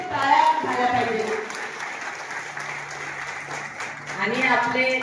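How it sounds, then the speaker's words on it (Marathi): A crowd at a women's day gathering applauds with a steady, continuous patter, while a voice speaks over it through a loudspeaker. "सर्व एकदम भरभर टाळ्या झाल्या पाहिजे"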